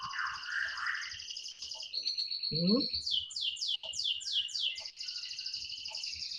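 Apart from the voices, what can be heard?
bird chirping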